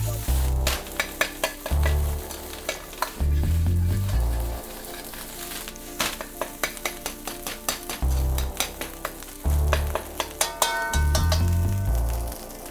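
Rice with pickled vegetables and whitebait is stir-fried in a wok, with loud, close sizzling broken by repeated clanks and scrapes of a utensil against the pan in rhythmic bursts, with no talk.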